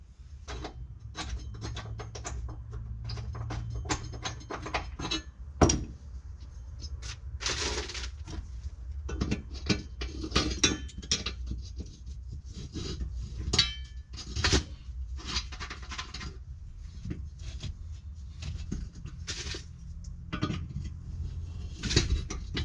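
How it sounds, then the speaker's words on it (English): Metallic clanks, taps and scrapes of an adjustable wrench working on bolts while installing an air ride seat in a 1988 Ford F700 truck, irregular and close, with occasional sharper knocks against a low background hum. "I'm using the adjustable wrench"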